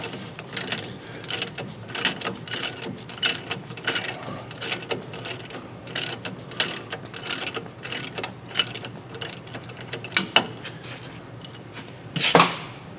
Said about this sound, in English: now I'm going to use a ratchet wrench just because I have it handy.